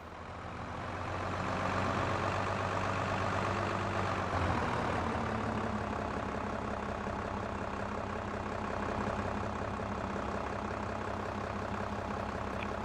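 A simulated tractor engine in a farm simulator game drones steadily under a heavy load, a continuous low rumble with a slight change in tone partway through and no voices.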